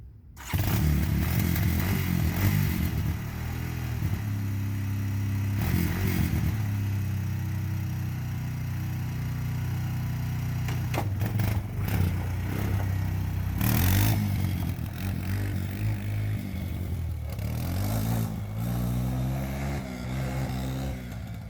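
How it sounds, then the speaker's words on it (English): A Honda TRX 250 ATV engine fires up and runs with a steady low rumble, the idle wavering and revving briefly at times, close by and without talk. "Pull the choke, turn the key."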